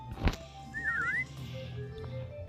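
A whistle-like sound in the Hide or Die video game, heard as a short wavering tone that rises and falls once, moderately loud over a low game hum.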